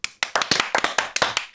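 A small group of friends around a Dungeons and Dragons table clap by hand, a dozen or so sharp, close claps in an uneven, rapid rhythm.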